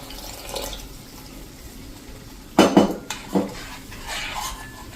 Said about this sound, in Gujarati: આ સ્ટેજે આપણે 1 કપ જેવું પાણી નાખી દઈશું